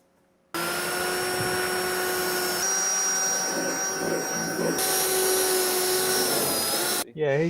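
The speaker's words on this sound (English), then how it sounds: "Yeah, he's drilled them all out." Power drill running steadily on a Mitsubishi FTO during restoration work, a continuous high-pitched whine with shifting load, up close and loud, with brief talk at the end.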